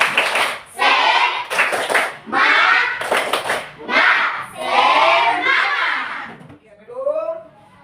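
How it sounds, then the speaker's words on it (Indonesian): A school class claps in bursts of quick, rhythmic spirit-clapping patterns, pausing briefly between rounds, with young voices chanting along. "kita tepuk semangat dulu. Tepuk semangat."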